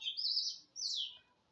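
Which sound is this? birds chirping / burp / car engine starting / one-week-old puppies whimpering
birds chirping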